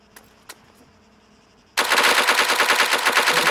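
Bison gun in Arma 3 fires a rapid, loud automatic burst that starts abruptly after a couple of faint clicks and continues steadily to the end.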